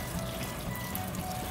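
Water runs steadily into a cooking pot for sinigang na hipon with radish, a continuous close pouring and splashing sound with no talk.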